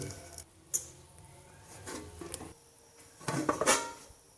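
A bowl is set down inside a saucepan and a lid is placed over it, giving several light clinks and scrapes of cookware, the loudest clatter near the end, with quiet kitchen background between.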